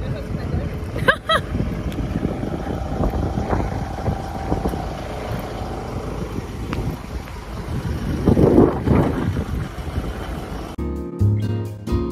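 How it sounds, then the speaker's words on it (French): Strong wind on a river in French Guiana buffets the microphone with a steady rumbling roar throughout, a voice speaking faintly beneath it. "Énormément de vent"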